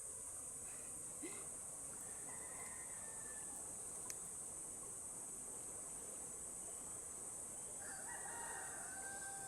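A fighting rooster crows at a distance in a couple of short calls over a steady high insect-like hiss and faint background noise, with no talking.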